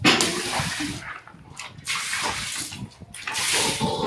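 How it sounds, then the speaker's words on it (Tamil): Water poured out to clean the area where a German Shepherd stays, splashing and gushing in several uneven pours close by, with a brief lull between them. "தண்ணி ஊற்றி விட்டால் தான் கரெக்டாக இருக்கும்"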